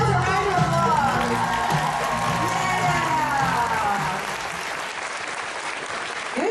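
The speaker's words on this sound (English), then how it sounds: "Give yourselves a round of applause." A convention crowd at a Dallas fan panel claps loudly and continuously, with cheers and whoops mixed in, the ovation fading somewhat toward the end.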